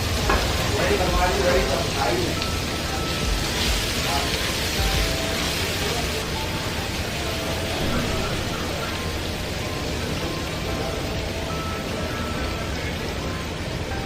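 Finely chopped onion drops into hot oil with curry leaves in a frying pan, giving a steady loud sizzle with stirring scrapes throughout, close by, and a voice talks over it.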